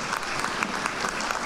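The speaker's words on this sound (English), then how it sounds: "let's give them a round of applause" A church congregation applauds children coming forward during a traditional service, a steady wash of many hands clapping at a moderate distance, even and sustained throughout.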